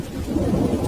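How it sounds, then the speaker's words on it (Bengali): Heavy rain pours with a deep roll of thunder in a Bengali ghost cartoon, a steady, dense downpour as if on a tea stall's tin roof, filling the whole short moment with no voices. "ঝমঝম করে বৃষ্টি পড়ছে"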